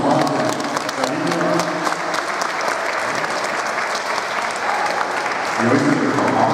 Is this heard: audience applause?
yes